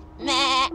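A single loud goat bleat in the Amanda the Adventure video game, a short wavering cry lasting under a second, heard alone and close.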